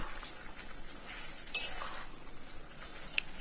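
Mutton sizzles in a pot as it is stirred and sautéed, a continuous close hiss and frying crackle with soft scraping of the spoon, fairly quiet and steady, without any voices.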